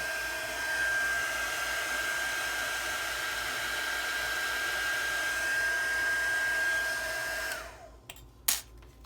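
A heat gun used for card making blows a steady, loud stream of hot air for about seven seconds, then cuts off abruptly, leaving a few faint clicks and handling sounds.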